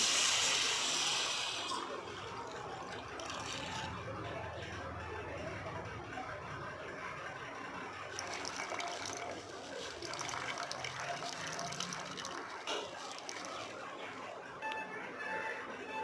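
Tamarind water pours steadily for several seconds, a continuous gushing, splashing wash with a brighter hiss at the start, close by, while making tomato rasam.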